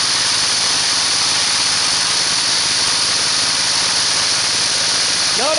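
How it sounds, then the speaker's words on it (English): An engine driving a DC generator runs steadily and loudly with a continuous mechanical hum and a faint rattle from a loose pulley key, with no talk. "That new noise in the engine, I believe, is just the key."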